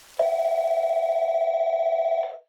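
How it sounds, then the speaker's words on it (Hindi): A telephone rings with a steady electronic tone held for about two seconds, loud and close, ending abruptly with no other sounds around it. "फोन आ गया भाई"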